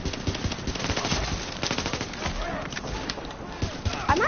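Gunfire in Tom Clancy's The Division plays as a dense, continuous stream of shots and impacts at moderate volume, layered with game effects and a busy combat background, a voice occasionally heard underneath.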